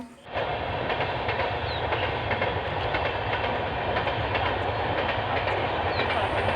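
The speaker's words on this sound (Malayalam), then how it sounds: "ഇതിലും വഴി ട്രെയിനൊക്കെ പോകുന്നുണ്ട് കേട്ടോ." A train rolls past on a railway track near Olippuram, a loud continuous rumble with rhythmic clickety-clack of wheels throughout.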